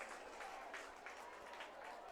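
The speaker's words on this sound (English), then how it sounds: "Couple of claps and cheers for that fan." Distant, faint scattered clapping and cheering from a crowd at a USPBL baseball game between the Eastside Diamond Hoppers and Birmingham-Bloomfield Beavers, after a fan catches a foul ball in the grandstands.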